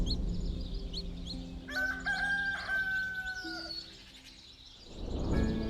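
A rooster crows in long drawn-out calls among clucking chickens at a permaculture farm in Madeira, moderately close, with small birds chirping in the background.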